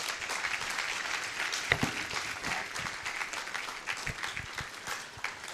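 Audience applause following a guest speaker at an agricultural school anniversary ceremony, a fairly thin, moderate patter of clapping heard from a distance, steady with a few sharper individual claps.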